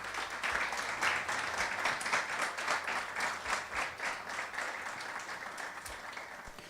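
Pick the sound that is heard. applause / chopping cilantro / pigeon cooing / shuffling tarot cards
applause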